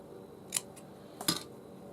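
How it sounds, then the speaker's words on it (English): Two crisp snips of scissors cutting fabric for a floral journal, quiet and close, spaced less than a second apart with no speech. "I'm going to cut it just a little bit smaller"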